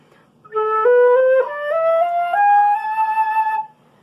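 A flute plays a slow harmonic minor scale, stepping note by note with smooth, breathy sustained tones, alone and clear.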